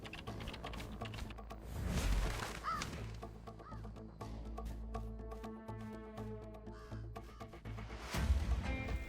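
Crow cawing in the video game Identity V, a few harsh caws standing out over game sound effects, with clicking and layered tonal tones around them.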